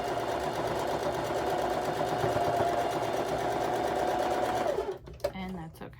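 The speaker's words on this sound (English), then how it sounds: "So we're gonna go ahead and sew along this edge" A sewing machine stitches along the edge of quilt fabric in a fast, even mechanical chatter for about five seconds, then stops, leaving a few soft handling noises.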